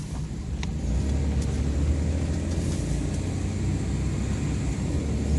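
A 1990 Chevrolet S10 Blazer 4x4 engine drives in gear, giving a steady, loud, low rumble heard from inside the vehicle as it bogs down and hesitates after the shift into second gear.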